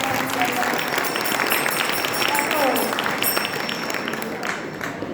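An audience at a devotional festival's cultural program applauds children's performers, a continuous wash of clapping from a large crowd with voices mixed in, holding steady and fading slightly near the end.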